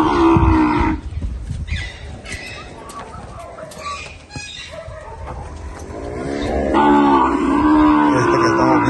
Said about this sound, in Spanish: Tenemos otro torete, él es Jaguar por Sansao.